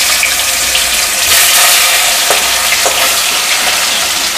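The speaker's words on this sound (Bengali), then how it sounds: "তেল দিয়ে দিচ্ছি, সর্ষের তেল দিয়ে ভাজছি।" Two fish fry in hot mustard oil, giving a loud, close, continuous crackling sizzle scattered with sharper pops and spits.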